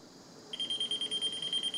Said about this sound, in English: Beeps and flashes when you get near power.